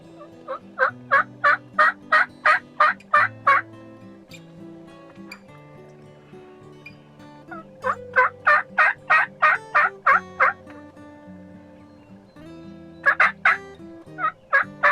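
Wild turkeys in the Ohio woods during a bow hunt gobble in loud, rapid bursts: three clear rolling volleys of repeated gobbles separated by short pauses, over low background sounds.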